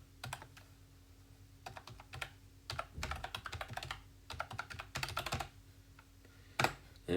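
Login details being typed on a computer keyboard, clusters of quick close-up keystrokes with short pauses between bursts, fairly quiet and with no voices.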